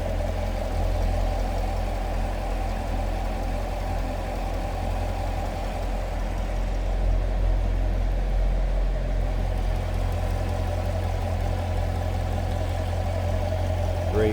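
A 2019 Chevrolet Corvette Grand Sport convertible engine idling, heard close and steady: a continuous low rumble with a mid-pitched hum on top that stays even in level for the whole stretch, with no talk over it.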